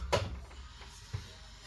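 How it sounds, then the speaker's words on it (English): A washing machine door is shut firmly with one solid thud, followed by a softer knock a second later, close by and without talking. "Put it directly in the drum, and then firmly close the door"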